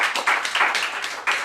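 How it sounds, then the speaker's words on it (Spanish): A church congregation claps hands as an offering to the Lord, a quick run of sharp, fairly close claps in uneven bursts over a brief moment. "¿Por qué no le damos una ofrenda de palmas al Señor"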